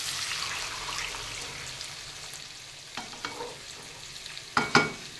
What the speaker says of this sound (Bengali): একটুখানি ভাজা হয়েছে, এখন জলটা দিয়ে দিচ্ছি